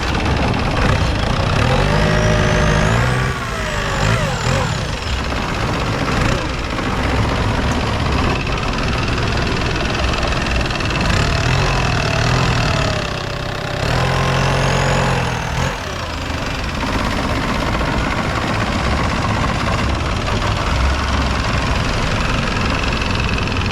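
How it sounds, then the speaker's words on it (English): A long-tail boat engine chugs loudly and steadily up close, revving up briefly a couple of times before settling back into its throbbing idle. "What is this boat name? Long tail boat."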